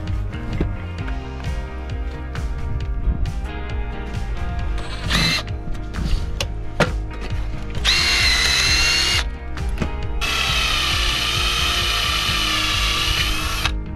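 A power drill whirs continuously with clattering and ratcheting mechanical noises, the motor rising to a louder, higher whine in two bursts toward the end.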